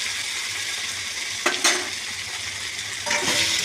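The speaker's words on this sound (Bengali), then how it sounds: "এবার একটু কষে নেবো ভাজা ভাজা করে" Mixed vegetables with ginger sizzle in oil for a mung dal dish, a steady close frying hiss broken by stirring and scraping bursts, one near the middle and another toward the end, with no voices.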